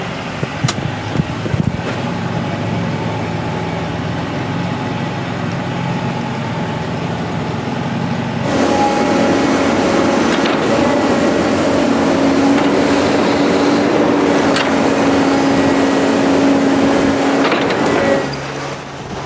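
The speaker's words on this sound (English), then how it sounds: "Such a little tractor and box scraper, but it sure gets big in spots like this." A small tractor engine runs steadily nearby as it pulls a box scraper doing dirt work, its low rumble rising in load partway through, with a faint mechanical hum throughout.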